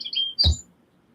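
A short high electronic chirp sounds once, brief and fairly close, with quiet room noise around it.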